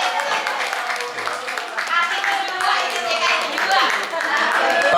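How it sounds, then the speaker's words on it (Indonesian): Audience clapping at a Halal Bihalal gathering held at a private home, a steady dense patter of many hands sustained throughout, with voices and crowd murmur mixed underneath. "luar biasa. Tepuk tangan."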